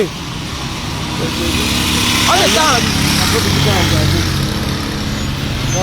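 A personal car arriving in Cameroon, its engine growing steadily louder as it approaches and pulls up, with people talking over it.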